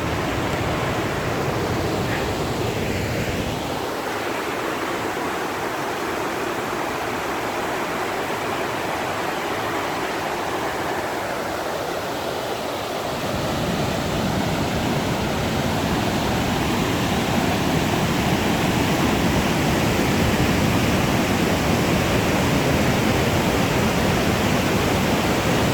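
Brattfallet waterfall on a river in Värmland roars in a loud, constant broadband rush of falling water, steady for the whole stretch with no voices.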